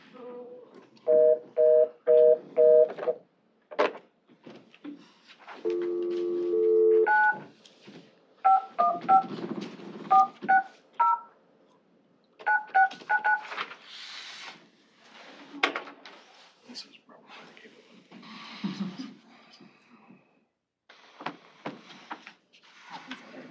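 Telephone keypad tones dialed on a speakerphone during a board of supervisors meeting, several bursts of beeps, some clustered and some single, with clicks, handling noise and faint voices between them.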